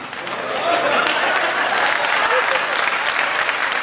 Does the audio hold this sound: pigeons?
no